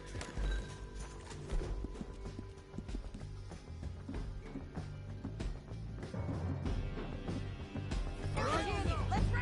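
Horse hooves gallop in a Red Dead Redemption 2 epilogue chase scene, a steady rumbling clatter mixed under dense game noise, shouting voices and a revving truck, growing louder toward the end.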